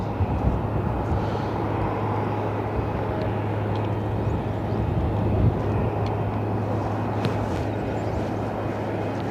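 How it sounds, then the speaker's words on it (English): Delta Boeing 757 airliner at Cleveland airport taxiing onto the runway, a steady distant engine rumble with a low droning hum held evenly throughout, no voices. "Delta 757 about to take the runway"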